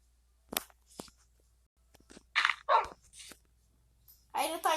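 A dog barks in short, scattered bursts with quiet gaps between them, followed by a longer stretch of barking at the end, sounding like game audio from a survival game.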